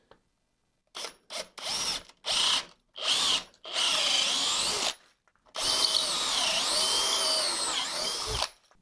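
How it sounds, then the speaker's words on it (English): A power drill with a large bit counterbores screw holes in wood, running in several short bursts and then one long steady run, close and loud with no talk. "I've got to counterbore a hole big enough for the screw head, hence the large drill bit."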